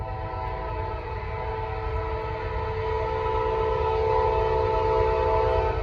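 Norfolk Southern southbound freight train 241, led by C6M and Gevo locomotives, passes near Gaffney, South Carolina, with a loud, steady rumble and a sustained tonal horn-like drone that swells slightly toward the end.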